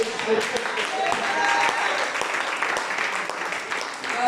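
A church congregation bursts into sustained applause, loud and dense clapping rolling on throughout with voices mixed in.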